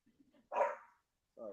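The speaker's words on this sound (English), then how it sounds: "Sorry about the dog." A dog barks once loudly nearby indoors, followed after a pause by a whining or yelping vocalization.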